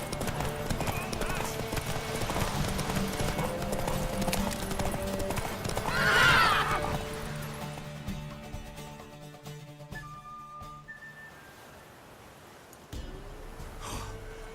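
Horse sounds in The Witcher 3: Wild Hunt: clip-clop hooves and a loud whinny mid-clip over continuous music and voices, with a sharp snort or gasp near the end.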